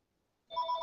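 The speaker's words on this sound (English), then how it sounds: "Sorry, my phone is ringing here." A telephone rings indoors, a steady electronic ring tone starting abruptly halfway through and continuing close and clear with no talk over it.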